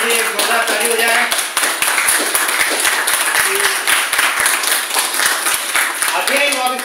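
Audience at a company event gives a loud round of applause for a star leader, dense continuous clapping with sharp individual claps close by and voices mixed in.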